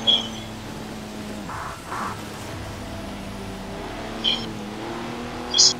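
A retro supercar engine accelerates steadily in Forza Horizon 4, a sustained, even motor drone with a few brief high squeals and bumps breaking through. No one speaks.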